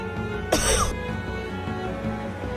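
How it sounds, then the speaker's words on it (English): A single sharp cough, short and close, cutting briefly across a quiet background of low game music. "Sorry, that line made me cough."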